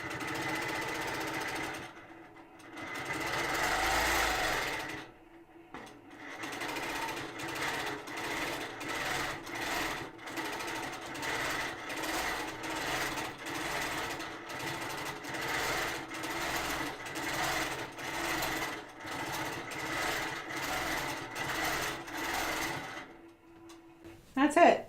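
A domestic sewing machine quilts tree shapes into a winter landscape quilt, running in bursts of rapid, rhythmic needle hammering with brief pauses, close and moderately loud, with a soft hum between stitching runs.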